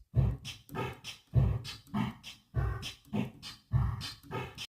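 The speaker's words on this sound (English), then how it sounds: "Drum kit sounds like this." Drum kit built from sampled everyday sounds, processed with reverb and trimmed highs, thumps out a steady repeating beat with low punchy hits alternating with brighter snare-like hits.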